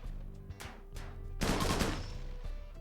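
Gunfire from turrets and colonists in the Rimworld video game, with a few brief cracks and then a denser dense burst of shots in the middle, over a steady low game hum.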